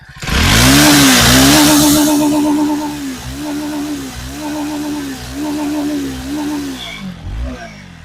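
A car engine revs up loudly and then pulses through several repeated throttle blips, each rising and falling in pitch, close by.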